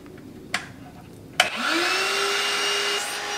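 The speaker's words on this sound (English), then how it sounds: "I'm thinking that the tube for the shop vac will fit tight over this conduit, and I can just leave it here, turn it on" A shop vac pulls air through a length of electrical conduit. A couple of sharp knocks come first, then the motor whines up and settles into a loud, steady roar with a rising pitch.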